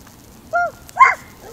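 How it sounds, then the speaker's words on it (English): A dog gives two short, close yips or barks about half a second apart in an otherwise quiet indoor setting. "Is that a doggy?"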